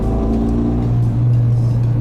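A Renault Mégane RS 275 Finale's turbocharged engine drones loudly and close by, a steady rumble with a slight rise in pitch partway through and no voices.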